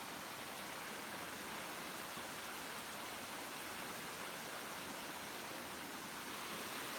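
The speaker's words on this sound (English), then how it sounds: "Over here, it's just a waterfall." A waterfall rushes in a continuous, even wash of white noise, steady and fairly soft, with no voices or other sounds over it.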